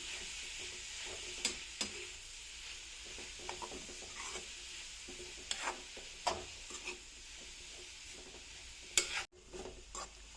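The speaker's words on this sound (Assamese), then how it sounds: "মই ভালদৰে গাজৰখিনি ভাজি ল'ম।" Grated carrots fry quietly in hot ghee, a faint sizzle broken by scattered scraping taps of a spoon stirring the pan.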